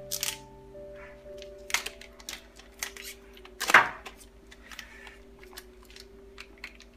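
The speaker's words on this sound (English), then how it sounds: "I guess we will unwrap the antennas." Plastic crackles and rustles as the wrapping comes off the antennas of a Netgear AC1750 range extender, with scattered close clicks and one louder crinkling burst partway through.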